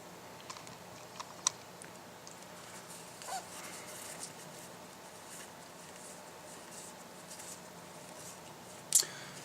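Magic: The Gathering booster packs from a Ravnica box being opened, with soft crinkles and small foil rustles, quiet and intermittent, ending in a sharper tearing crackle.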